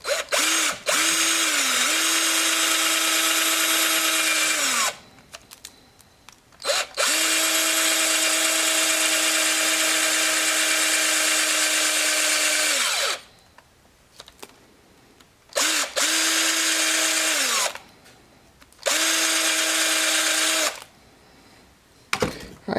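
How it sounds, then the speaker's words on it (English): A power drill drilling plastic whirs in several long bursts, pitch dipping as it bites into the plastic, with brief quiet gaps between runs. "If the drill does catch the plastic, just pull it out"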